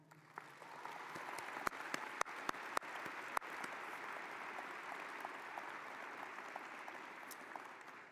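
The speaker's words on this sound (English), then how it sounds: "So let's give them a round of applause." Sustained applause from a graduation ceremony audience at a medical school commencement, a broad steady wash of many hands with a few sharper close claps early on, fairly faint and distant throughout.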